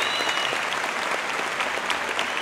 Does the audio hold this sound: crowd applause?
yes